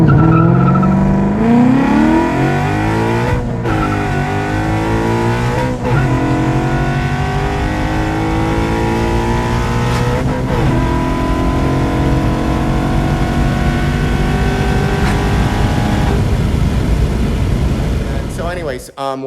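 A Ford Mustang S197 on stock tires pulls hard through the gears, engine roaring loud and close with rising sweeps and brief breaks at each shift, plus some tire noise, while a person talks over it.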